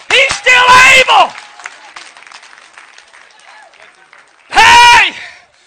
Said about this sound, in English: If you need Him, you clap better now.